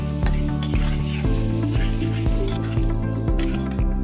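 Spices sautéing in oil in a pan for a tilapia and tomato curry, a steady close sizzle with rhythmic scraping strokes of a spoon roughly every half second throughout.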